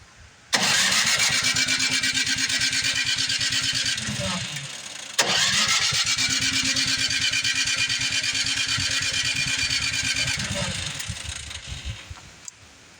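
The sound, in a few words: snowblower engine cranking and trying to start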